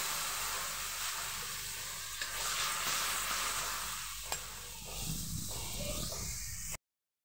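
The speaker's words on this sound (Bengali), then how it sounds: "মশলাটা দেখুন ভালোভাবে একটু কষিয়ে নেবো।" Cumin, coriander, chili and turmeric powder masala frying in a pan for a vegetarian eggplant dish, a steady close sizzle with occasional stirring scrapes and clicks, then cutting off abruptly.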